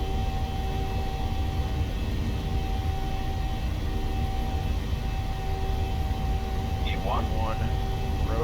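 PMDG 737 jet engines spooling to takeoff thrust in a flight simulator, a steady broad roar with faint tonal whine lines, held at a constant level, while a voice speaks briefly over it.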